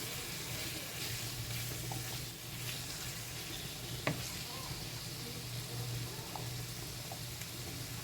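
Beans cooking with chicken and spices sizzle quietly and steadily in a pan, a soft, continuous frying hiss with a steady low hum and one brief sharp tap partway through.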